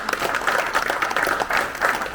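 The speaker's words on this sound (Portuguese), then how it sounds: "Palmas para ele" Brief audience applause during a political speech in London, a steady patter of many hands clapping at moderate volume without talk over it.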